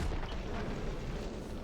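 A massive explosion in the video game Horizon Forbidden West, a dense low rumbling boom that fills the short clip with sustained, loud blast noise and no talking.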